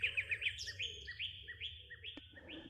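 Small birds hidden in foliage near a eucalyptus-scented hotel entrance chirp in quick, repeated high tweets, several calls overlapping and fairly close, with a soft background hum.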